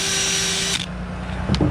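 A power drill whines at steady speed while stripping pinstripes off a car's paint, then cuts out abruptly partway through, leaving a faint whir and a brief clatter near the end.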